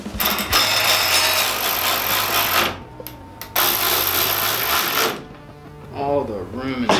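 A wrench ratchets and clanks while unbolting suspension on a rear-wheel-drive Honda CRX with Subaru suspension, in loud close bursts with pauses, and people talk briefly near the end.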